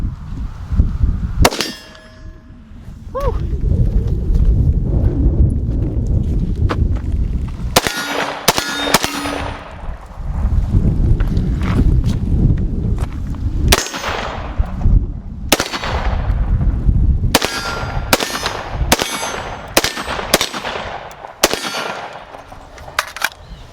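Rapid AR-15 rifle shots ring out with sharp metallic clangs from steel targets, irregular bursts of close, loud gunfire and pings over about twenty seconds with brief pauses between strings.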